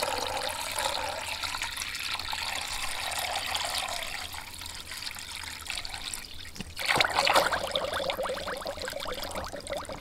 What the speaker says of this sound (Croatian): Dodajem vodu.